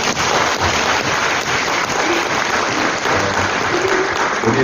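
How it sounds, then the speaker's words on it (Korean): Sustained, dense applause from a congregation at a Presbyterian pastor ordination ceremony in Daejeon, loud and steady with no voices over it. "우리 하나님께 영광의 박수를 올려드리겠습니다"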